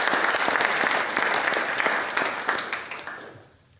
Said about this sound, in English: can we have one more round of applause for all of our honored graduates?